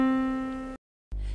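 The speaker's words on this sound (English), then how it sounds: "For the female voice, I will play a C4." A single sustained C4 pitch tone rings steadily as a singing reference for under a second, clean and evenly decaying, then cuts off abruptly, followed after a short silence by a low rumbling noise.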